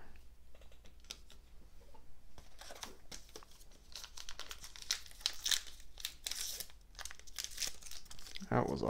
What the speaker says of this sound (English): That was a horrible rip on that pack